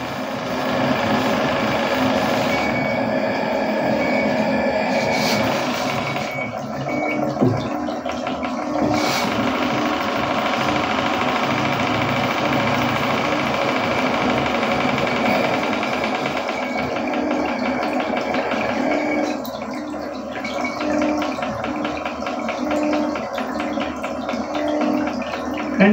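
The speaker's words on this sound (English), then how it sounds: "Engine at minimum speed." An engine turns over steadily at minimum speed while a liquid-fed gas burner holds under control on a test rig, making a continuous droning hum with a faint whirring layer throughout and no talk.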